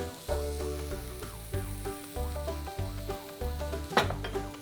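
Already roasted vegetables, seasoned with salt and sugar to caramelize, hit a hot frying pan, giving a steady close sizzle with rhythmic stirring scrapes and light clinks of a utensil against the pan.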